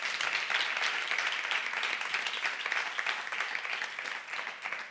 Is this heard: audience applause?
yes